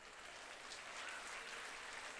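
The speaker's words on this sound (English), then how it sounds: "Round of applause for Shadow Marvel showing up." Applause from a small online audience during a Marvel Crisis Protocol tabletop game stream, a steady faint patter of clapping for a couple of seconds with no voices.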